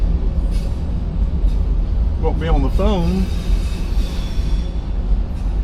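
A CSX freight train pulled by three locomotives rolls past in Cartersville, Georgia, a steady, loud rumble that fills the whole clip while a person talks briefly over it.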